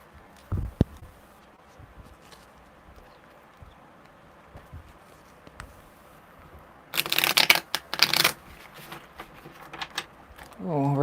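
Tarot cards shuffled by hand during a live reading: a low, quiet room gives way to one dense, close burst of riffling cards lasting over a second, followed by a few soft handling taps.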